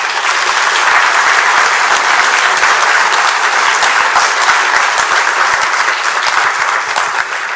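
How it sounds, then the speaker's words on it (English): A graduation ceremony audience at Shiva Boys Hindu College breaks into loud, sustained applause, a dense, even roar of many hands clapping from start to finish. "I think they deserve another round of applause."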